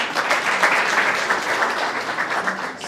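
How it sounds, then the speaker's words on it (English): Audience applause at an investment forum in Washington, D.C., a dense, steady wash of many hands clapping that carries on throughout. "Clap and appreciate Alex."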